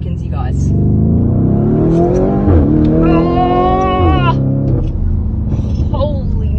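Lamborghini Urus Mansory engine accelerating hard from inside the cabin, a loud rising roar that climbs steadily in pitch through the gears, with an excited voice exclaiming over it.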